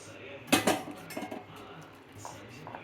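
A utensil works batter with water, lemon and salt in a bowl, giving sharp clinks and scraping strokes that are loudest early on and then settle into softer, intermittent stirring.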